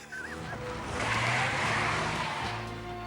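A Rover saloon chased by police cars, with revving engines and skidding, squealing tyres sweeping past at close range, steady and loud over a brief stretch.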